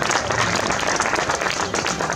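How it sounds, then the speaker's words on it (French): A crowd at the podium ceremony for a sailing regatta on Lake Geneva applauds loudly, a brisk, dense clatter of many hands close by with a slightly uneven, surging rhythm. "Quand on peut les applaudir très fort"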